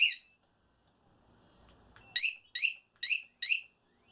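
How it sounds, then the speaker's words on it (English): An electronic alarm beeps in sharp, high-pitched pulses: a single beep, a pause, then four evenly spaced beeps in quick succession, fairly close, in a motorcycle repair workspace. "Forgot to shut my alarm off."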